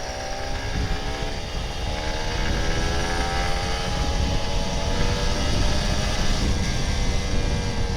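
Kawasaki Ninja RR 150 two-stroke motorcycle engine running under light throttle, a steady buzzing drone with rising harmonic bands, close and continuous throughout with no talking.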